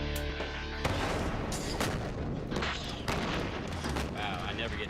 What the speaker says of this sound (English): The cannon triggered. The ANFO went off